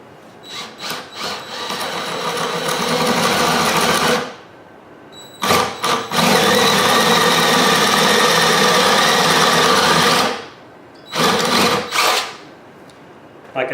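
A power drill bores into an EZStudRack stud rack in a craft room in long, loud whirring bursts of several seconds each, separated by short pauses and brief trigger blips, close up with no talking.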